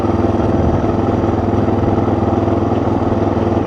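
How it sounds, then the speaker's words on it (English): A Suzuki DR 650 motorcycle engine idles with a steady, loud, even thrum close by, with a faint slight hesitation just off idle, and no one speaks. "there's a little bit of a hesitation there just off of idle"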